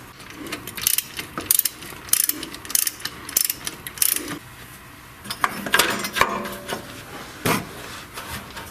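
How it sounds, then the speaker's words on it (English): Ratchet wrench loosening the bottom starter bolt under a Chrysler Town & Country van, rapid bursts of clicking pawl action in short repeated strokes, close and crisp, with faint metallic clatter. "I'm going to remove the bottom bolt from the starter"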